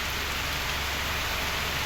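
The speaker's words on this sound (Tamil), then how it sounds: "மழை தட்டு தட்டுன்னு தட்டுது" Heavy rain pounds down at a petrol station on the road to Sabarimala, a dense, loud, unbroken hiss of downpour with no voices.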